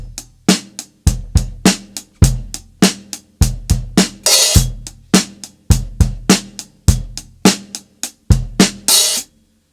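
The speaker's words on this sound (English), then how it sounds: "there's that open hi-hat, so it's going to sound like this" Slow open hi-hat drum groove from a rock-soul tune, played alone in a steady pattern of kicks and snares with hi-hat strokes, some washes ringing out longer, close and clear with no talking.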